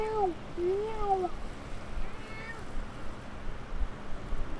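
Momo the cat gives two or three drawn-out, rising and falling meows near the start, followed by a fainter mew, over low rumbling background noise.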